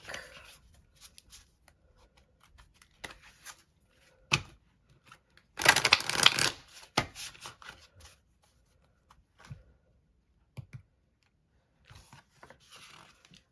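An Angels and Auras oracle deck is shuffled and a card is drawn. Sparse card flicks and taps surround one brief, dense riffle of shuffling in the middle, and the rest is near silence.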